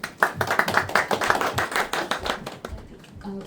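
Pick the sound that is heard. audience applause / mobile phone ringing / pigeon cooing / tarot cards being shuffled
audience applause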